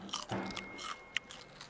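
Crisp bites into a crunchy Korean melon (chamoe), a few quiet, close crunches and chewing sounds with a sharp click near the end, heard alone without talk.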